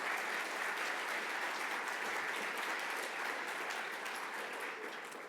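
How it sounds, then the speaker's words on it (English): An audience at a workshop plenary session applauds with sustained, dense clapping that holds steady and then fades slightly at the end. "clap for Chris"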